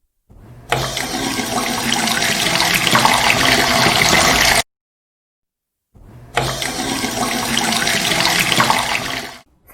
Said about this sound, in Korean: 세면대 물 흐르는 소리.